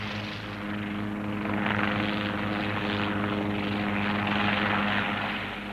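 A helicopter flies over arid Sira island with a steady, droning rotor and engine hum, its level holding loud and constant with a slight swell midway.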